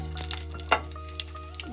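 Cumin seeds sizzling in melted coconut oil in a pan, a quiet steady crackle with small pops and a faint background hum.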